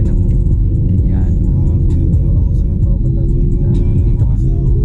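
A car engine labours uphill in low gear on a mountain road during a driving lesson, giving a loud, steady low rumble that persists throughout, while people talk faintly in the background.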